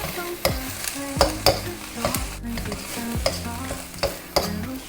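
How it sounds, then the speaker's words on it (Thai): Bird's eye chilies, red jinda chilies, dried chilies and garlic are stir-fried in a wok, with rhythmic spatula scrapes and clanks over a lively sizzle, close and with no talking. "เราก็จะเอาตัวพริกกระเทียมเนี่ยลงไปผัดนะครับ"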